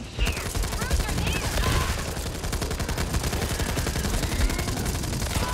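Sustained automatic gunfire from Back 4 Blood rattles in rapid, continuous bursts, loud and close, forming a dense fusillade for the whole stretch.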